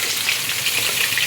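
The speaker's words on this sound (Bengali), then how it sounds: "এখন আমি পেঁয়াজ দিয়ে দেব।" Onions hit hot ghee in a pan while cooking hilsa pulao, giving a loud, dense, even sizzle heard close up, with no voices over it.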